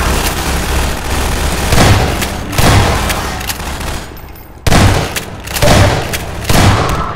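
Gunfire from a weapon in Half-Life 2 Episode 1 rings out in repeated bursts, several loud booming volleys spaced over the stretch with a steady din of game ambience between them.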